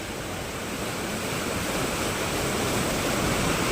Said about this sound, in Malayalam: ഇത് വെള്ളം കൂടുതലായിട്ട് ഇങ്ങനെ ആയിട്ടുള്ളതാണ് തോട്ടിൽ